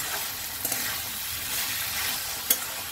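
Minced mutton keema sautés in oil in a pan, a steady bright sizzle with a few sharp spatters and scraping stirs, close and continuous, no talking.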